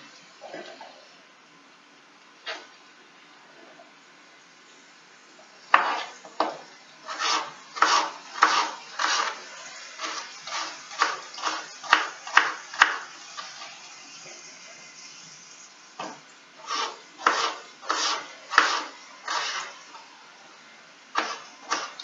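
A knife chops potatoes into small pieces on a cutting board, a run of sharp, close, rhythmic cuts in quick bursts with short pauses between them.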